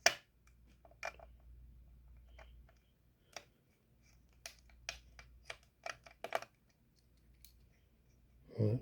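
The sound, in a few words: unscrewing laptop fan screws with a star screwdriver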